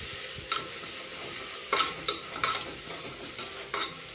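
Mint and coriander leaves sautéing in a pan for vegetable biryani, with a soft steady sizzle and a few scraping stirs of a spoon at irregular intervals, close and alone.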